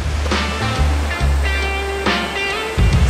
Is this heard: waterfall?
yes